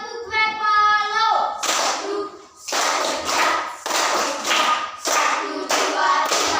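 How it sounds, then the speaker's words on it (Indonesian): Pupils in a classroom perform the Tepuk Bapalo clapping chant, led by a student after an adult's spoken introduction, with sharp patterned bursts of group clapping and chanted voices in a rhythmic sequence. "Tepuk Bapalo."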